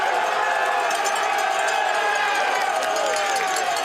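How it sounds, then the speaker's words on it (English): Cyclo-cross World Cup crowd in Namur roaring and cheering with cowbells clanging throughout, a dense continuous wall of noise, loud and close, with voices yelling and whistling amid the din. "The crowd are going pretty crazy right now."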